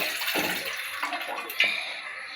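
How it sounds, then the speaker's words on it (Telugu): Water poured into a cup when starting to cook instant noodles: a brief, quiet splashing trickle with soft hissy bursts and no talk over it. "ఫస్ట్ ఒక కప్లో నీళ్ళు పోసుకోవాలి గైస్."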